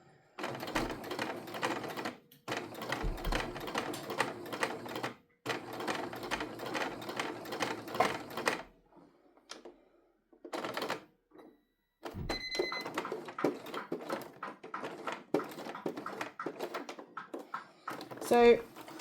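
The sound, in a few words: sewing machine stitching a tote bag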